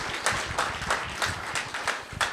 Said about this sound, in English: So how about applause for them?